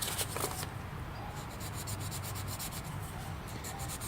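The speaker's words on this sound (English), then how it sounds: "I've got 220 grit just to take off some of the additional epoxy that was on the edge." Hand sanding with 220 grit sandpaper to remove excess epoxy from the edge of a Starboard 95cm foil mast, a steady close rasping rub with quick back-and-forth strokes continuing throughout, no talking.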